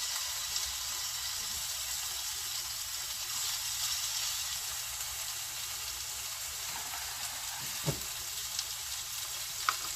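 Fatty side of a corned beef searing on high heat, a steady broad sizzle and hiss running throughout with a few faint pops and clinks.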